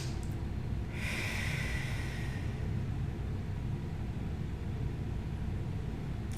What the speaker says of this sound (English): you can do 3 quick sniffs through the nose and 1 long exhalation through the mouth